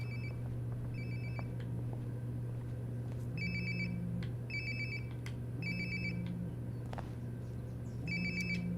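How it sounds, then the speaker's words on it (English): A phone rings in the game Life is Strange Before the Storm Remastered: repeated short double-trill rings at a steady interval, faint under a constant low hum. "Sounds like my phone is definitely nearby."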